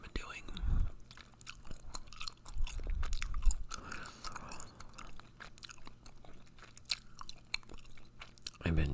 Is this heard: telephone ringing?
no